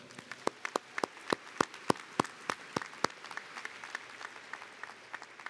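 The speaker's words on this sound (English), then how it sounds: "Please give each of them a round of applause" A graduation crowd gives a round of applause. Sharp, separate claps come close together at first, then thin out and fade into softer scattered clapping.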